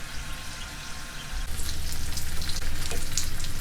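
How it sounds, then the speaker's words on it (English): Loud, steady sizzling of chicken tacos frying in a hot pan until brown and crispy, crackling and spitting close up, growing busier partway through. "let them sizzle until they get brown and crispy"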